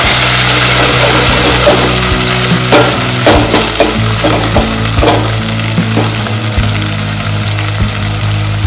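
Masala for a spicy crab curry roasting in a pan, a loud, steady sizzle with scraping stirs and a low continuous hum underneath.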